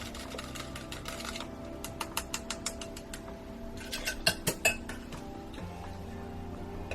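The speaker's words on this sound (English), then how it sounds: "I'm going to just whisk these darker versions" A whisk clinks against a container while colored cold-process soap batter is stirred, giving a series of light, bright metallic taps in quick bursts over a faint steady background hum.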